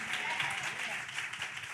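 An audience applauding for Sonia at a community outreach session, a short burst of steady crowd clapping with a voice faintly underneath.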